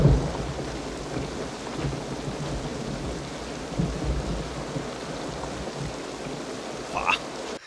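Steady rain pours and low thunder rumbles through a stormy night in the 1976 western The Outlaw Josey Wales, a continuous wash of noise with occasional louder swells.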